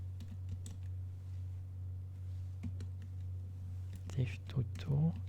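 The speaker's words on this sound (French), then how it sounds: "Ou alors il faut que je tape tout." Typing on a computer keyboard, scattered light clicks and taps over a steady low electrical hum, fairly quiet, with a brief murmur of a voice near the end.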